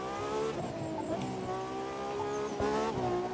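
A Porsche in the racing video game The Crew 2 drives with a steady, loud engine drone that shifts pitch as it revs, with brief tire squeals and no voice.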